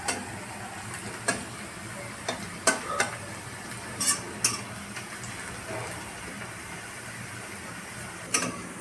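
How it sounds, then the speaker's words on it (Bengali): Onions fry to a reddish brown in a pan with a low sizzle, while a spatula stirs and scrapes in sharp, irregular clacks, several clustered together and others spaced seconds apart. "পেঁয়াজটা আমার লাল লাল করে ভাজা হয়ে গেছে।"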